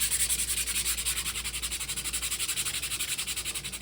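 Sandpaper rubs back and forth across a surface in quick, even strokes, a soft rhythmic scratching heard close up and alone.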